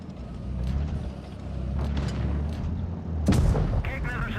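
A tank cannon fires a single heavy blast in World of Tanks Blitz, with a Leopard 1 in the fight. A low, steady engine rumble comes first, then one sharp, loud boom near the end.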